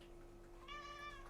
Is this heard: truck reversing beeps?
no